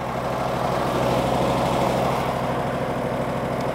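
Custom-built Isuzu fire truck engine running at reduced RPM during pump shutdown, a loud steady low throb with a pulsing rhythm and no talk over it.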